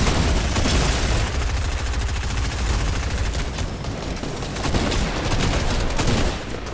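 Fortnite squad battle with continuous loud rifle and machine gun fire, dense overlapping shots and occasional heavy booms throughout, with no talking.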